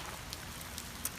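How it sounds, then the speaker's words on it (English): Rain falling outdoors, a steady soft patter with a few sharper drops standing out, moderately quiet and continuous with no voices. "it's just a little bit too rainy right where I'm at there"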